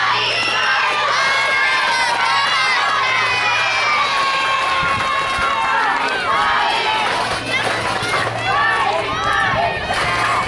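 Supporters of a baseball team cheer and shout nonstop during the final inning of a game in Brazil, with a dense, loud crowd of excited, high-pitched voices mixed with whoops.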